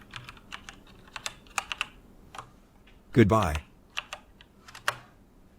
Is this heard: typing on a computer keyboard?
yes